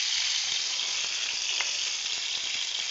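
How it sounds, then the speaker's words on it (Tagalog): Thin chicken breast fries in a hot pan, giving a steady, close sizzle with no talking. "Saglit lang yung prito. 3 minutes bawat side."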